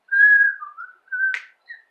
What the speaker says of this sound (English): Oh, you went in there whistling.